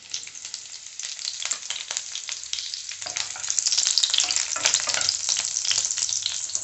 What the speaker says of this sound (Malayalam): അതുകൊണ്ട് അതാ എണ്ണയിലേക്ക് വീണപ്പോ ഒന്ന് പൊട്ടണതാട്ടോ